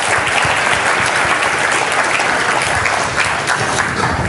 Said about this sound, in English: I'd love to give him another round of applause